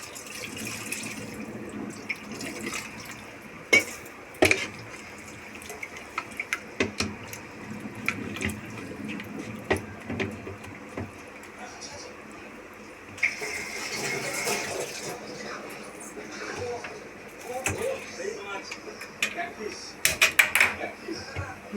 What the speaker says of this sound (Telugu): లైట్గా నీళ్ళు పోసుకుందాం.